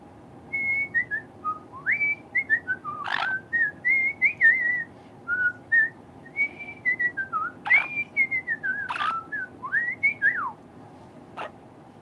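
A person whistles a melodic tune in short phrases of sliding notes, close and clear against a quiet room, with a few sharp clicks or taps in between.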